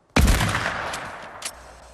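A single sharp, loud gunshot in the video game Fortnite, followed by a long fading echo and a fainter second burst shortly after.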